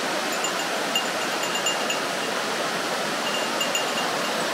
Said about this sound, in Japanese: この川がここなめ滝になってますね